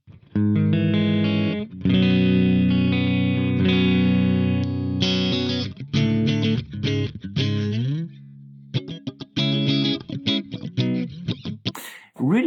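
Clean electric guitar playing sustained chords and picked notes through a simulated 150-watt Mesa Triple Rectifier amp, with a smooth, bright tone and light reverb, pausing briefly between phrases.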